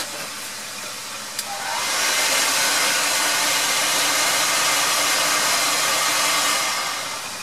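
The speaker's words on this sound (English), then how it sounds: "Put the heat shrink right over the soldered part." Heat gun blowing on heat shrink tubing over a soldered wire for a drone's infrared camera setup, a loud, steady, airy hiss that starts abruptly after a click, holds for several seconds, then tapers slightly.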